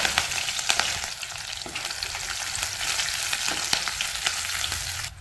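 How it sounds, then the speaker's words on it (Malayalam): Chopped garlic and two green chillies hit hot oil for a mushroom curry, giving a loud, bright crackling sizzle with sharp spits and occasional stirring scrapes, close and continuous with no talking. "വെളുത്തുള്ളിയും പച്ചമുളകും അരിഞ്ഞത് രണ്ട് പച്ചമുളകാണ് എടുത്തിട്ടുണ്ട് അതും കൂടി ചേർത്ത് കൊടുക്കാം"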